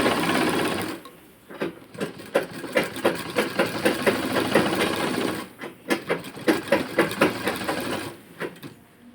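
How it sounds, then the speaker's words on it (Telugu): A sewing machine stitches a blouse seam in close, loud runs of rapid rhythmic clatter that are broken by brief pauses, with no voices. "ఇప్పుడు కుట్టు ఇలా తిప్పేసి మళ్ళీ డబల్ కుట్టు వేసుకుంటూ రావాలన్నమాట"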